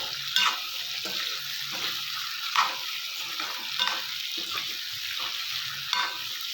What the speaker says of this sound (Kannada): ನೋಡಿ, ಇವಾಗ ಹೀರೆಕಾಯಿ ಹಾಕ್ಕೊಂಡಿದ್ದೀನಿ. ಚೆನ್ನಾಗಿ ಮಿಕ್ಸ್ ಮಾಡ್ಕೊಳ್ಳೋಣ.